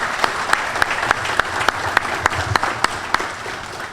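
An audience claps at a law enforcement awards ceremony honoring detectives, a dense, sustained round of applause with sharp individual claps standing out at a regular pace.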